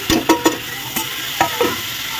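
Chopped tomatoes frying for pav bhaji, stirred in a pan with several sharp scraping clacks of a spoon over a steady sizzle, close and fairly loud.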